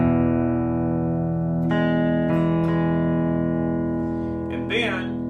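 Sustained lap slide guitar notes on strings 3 and 4 from Amazing Grace ring out with a warm, slightly distorted, reverberant tone. Soft new attacks land every second or so, and a faint voice shows near the end.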